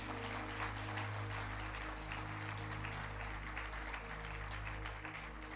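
A church congregation applauds during a sermon, a continuous roomy wash of clapping over a steady low hum with no voices on top.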